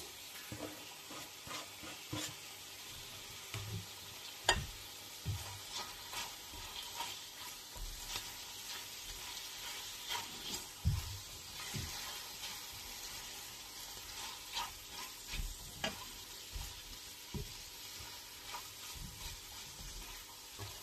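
Chicken pieces and mushrooms frying in a pan, with a little parsley added, as a spoon stirs them through: faint, uneven scraping and soft sizzling bursts at a quiet, close level.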